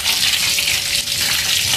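Chicken pieces deep-frying in hot oil for homemade KFC-style fried chicken, a steady, loud, dense sizzle and bubbling that continues unbroken throughout.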